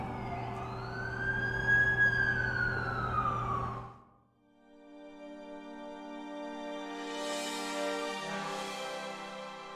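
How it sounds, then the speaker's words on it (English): An ambulance siren in The Amazing Spider-Man 2 video game wails loudly with a rising and falling tone, cuts off briefly, then returns as a steadier, more distant tone. "That's the ambulance I called."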